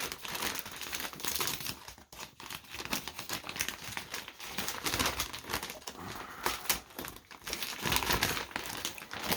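Plastic bag crinkling close up while a 15-inch black and blue microfiber leather steering wheel cover is pulled from its bag, a continuous irregular rustle with sharper crackling bursts.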